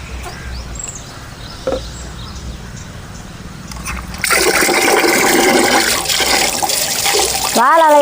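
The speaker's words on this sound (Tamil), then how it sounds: "வாழை இலையை கழுவி எடுத்துக்கலாம்." Water is poured and splashed while fresh tender banana leaves are washed outdoors in a village; quiet rustling and a brief voice come first, then a loud, continuous gush of running water fills the second half.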